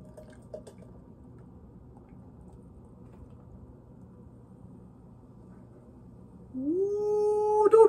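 Beer poured into a frosted beer glass: after a quiet stretch with faint drips, a pouring gurgle starts and rises in pitch as the glass fills, close and clear.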